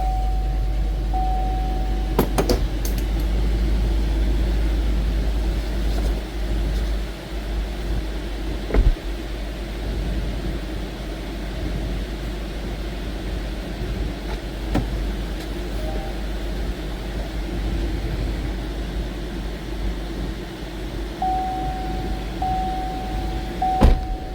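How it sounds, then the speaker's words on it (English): A 2017 Chevy Silverado pickup truck idles after starting up, with a steady low engine rumble under faint cabin clicks and a couple of brief knocks. "Start up the truck, see what happens."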